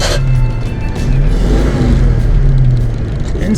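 A 1966 Ford Mustang with the 289 V8 pulls away, its engine rumbling loud and close with rising revs as it accelerates through the gears, a steady throaty drone that surges and eases.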